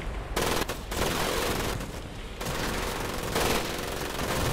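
Dense automatic gunfire from the World War II shooter Medal of Honor: Pacific Assault, loud bursts of rapid rifle and machine-gun shots running almost without pause, with short gaps between volleys.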